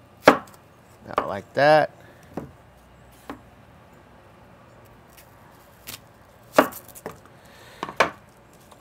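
A Dalstrong Quantum Series knife slices an onion in half, giving a few crisp, close chopping cuts in quick succession and then sparse later taps, with a brief spoken remark.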